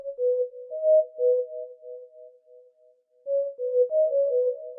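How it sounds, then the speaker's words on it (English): Soft sine pad synth preset from Expand 2's soft pads plays pure, smooth sustained tones in a simple melodic line, gently swelling and fading with a brief near-silent gap midway. "It's the sine pad inside of soft pads."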